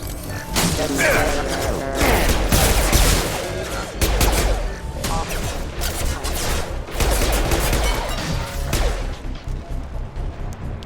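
Rapid, sustained gunfire from the Mass Effect 2 video game, with dense overlapping bursts and impacts filling the mix at steady loudness and a few brief dips between volleys.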